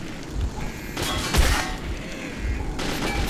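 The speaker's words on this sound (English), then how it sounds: "I have a machine gun!" Bursts of automatic machine gun fire in the video game Metro 2033 crackle in short volleys with gaps between them.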